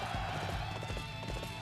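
Horse hooves clip-clop in the game Dynasty Warriors 8 Empires, a quick, even run of soft hoofbeats over a busy, droning game soundscape.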